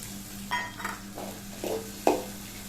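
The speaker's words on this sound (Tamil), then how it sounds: "அடுத்து வெங்காயம் ஆட் பண்ணுறேன் கட் பண்ணது" Chopped onions stirred and fried in a pan for a Tamil-style egg fry, about five soft scraping strokes of a spoon over a gentle sizzle and a steady low hum, with no talking.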